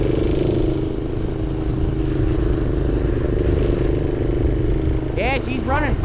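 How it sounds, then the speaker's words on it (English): A minibike engine running rough out on the ice makes a loud, continuous low rumble throughout, close up, with a few brief squeaky chirps near the end. "My bike is really running funny."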